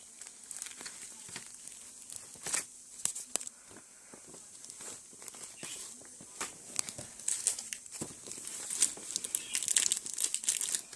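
A package being opened, its plastic wrapping crinkling and rustling in irregular bursts with small sharp crackles, close by and fairly quiet, continuing throughout with no talking.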